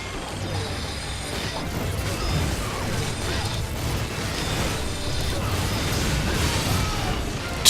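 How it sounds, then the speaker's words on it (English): Repeated explosions and crashing bursts from the action video game The Wonderful 101 on Wii U, a dense, steady barrage of mechanical clanks and pops lasting throughout, loud and close with a brief voice now and then. "Jeez, explosions everywhere."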